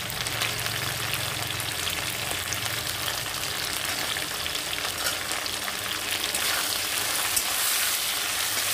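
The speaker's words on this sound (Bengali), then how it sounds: "হলুদ লবণ দিয়ে আমি 2 মিনিট একটু কষাতে থাকি বন্ধুরা" Okra and potatoes sizzle steadily in a pan with turmeric and salt, a continuous loud frying hiss with occasional stirring scrapes for the whole stretch, no voices.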